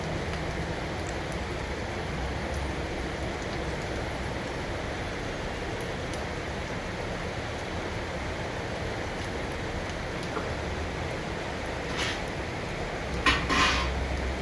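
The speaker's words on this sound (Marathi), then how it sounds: "आपण तर परत एकदा परतून घेऊया बटाटा, नाहीतर तो खाली लागेल." Potato pieces stir-fried in a pan for sabudana khichdi give off a constant low sizzle, with faint scraping and a brief clatter of utensil on pan near the end, close by and without talk.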